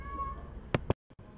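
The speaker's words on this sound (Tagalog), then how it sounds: "May naglalandi na naman pusa." A cat in heat meows, a drawn-out wavering call followed by two short sharp cries at close range, then the sound cuts to near silence.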